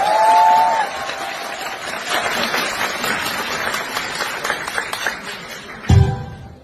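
Wedding guests applaud and cheer for the bride and groom at a celebration, a dense wash of clapping with some whoops at steady loudness. A brief tonal note opens it and a short thump lands near the end.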